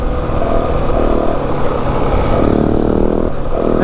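A 2025 Yamaha WR 450F dirt bike roars loudly and steadily at speed on a desert trail ride in the Santa Rita mountains, its engine note wavering slightly with throttle, close and continuous.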